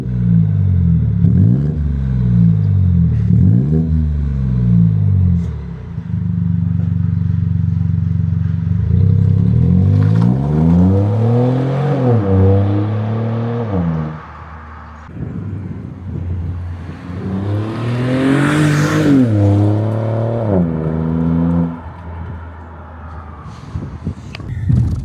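A BMW 118i with its muffler deleted drives on the road, its exhaust droning and rising through gear changes with repeated revving climbs, loud and close from inside the car, with wind noise.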